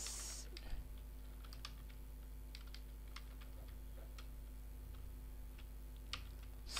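Typing on a computer keyboard while a payment description is entered for a money exchange: scattered, fairly quiet key clicks in irregular bursts over steady background hum, with no talking.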